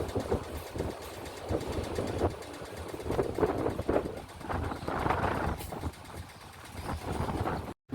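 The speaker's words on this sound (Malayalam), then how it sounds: "അങ്ങനെ ട്രെയിൻ നാഗർകോവിൽ എത്തിയിരിക്കുകയാണ്" A train rolls into Nagercoil Junction on the way to Kanniyakumari with irregular clanks and rumbling thuds of wagons over the rails, moderately loud and continuous, ending in an abrupt cut.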